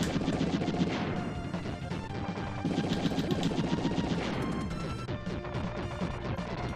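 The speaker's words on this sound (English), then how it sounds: "So she will bomb 4 times in a very specific rhythm, and I will stun lock him with this lasso." Dense, continuous barrage of explosive crashes and rapid gunfire-like bursts from the retro shooter Wild Guns, bombs and lasso attacks hitting a boss, loud and unrelenting with layered game music throughout.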